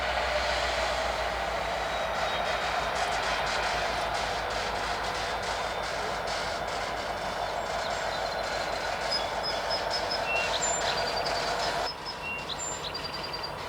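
Norfolk Southern freight train led by an EMD SD70ACU locomotive slowing to a stop at a signal near Harrisburg, a distant steady rumble with faint high squeals of brakes and wheels, birds chirping now and then.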